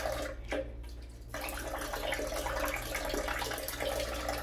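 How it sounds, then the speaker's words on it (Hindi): Tap water runs and splashes steadily as a small child washes both hands at a sink, a close, continuous gush with a brief dip before the flow settles into an even stream. "चलो हैंड वॉश करो, अच्छी तरह करो, दोनों हैंड वॉश।"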